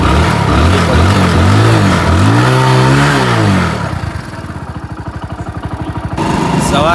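A motorcycle engine on a cold village morning is revved close by in rising and falling surges, then drops to a steady throbbing idle before picking up again.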